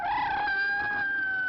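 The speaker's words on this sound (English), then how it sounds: "Must be something wrong with the cat." A cat's meow used as a sound effect in a 1941 film, a single sustained, slightly wavering tonal yowl, loud and close, heard alone on an old recording with a limited treble range.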